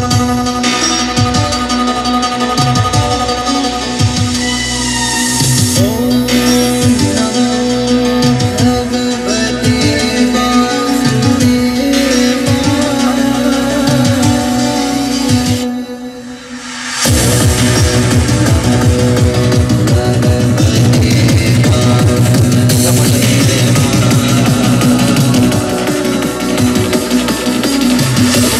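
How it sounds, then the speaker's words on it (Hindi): Music played loud through four Audison car speakers driven by an amplifier in a Maruti Fronx, with steady punchy bass beats throughout and a brief near-silent gap midway before the track resumes. "ऑडिसन के चार स्पीकर हमने एम्पलीफायर के साथ लगाए हैं, इसकी आवाज़ आप लोग सुन सकते हैं।"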